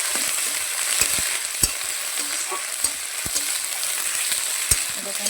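Onion paste and chopped onion frying in oil in a pan, a steady close sizzle with occasional scraping clicks from stirring, no voices.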